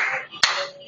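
A single sharp hand clap lands in the middle of a dance routine, brief and close over a background of music.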